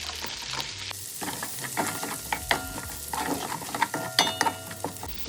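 Onion and pepper fry and sizzle in a pot for a Jamaican brown stew pork, with a steady crackle broken by the scrape and clink of a utensil stirring against the metal.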